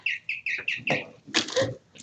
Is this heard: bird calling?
yes